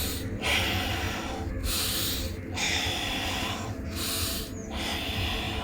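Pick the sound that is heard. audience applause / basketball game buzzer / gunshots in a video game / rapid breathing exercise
rapid breathing exercise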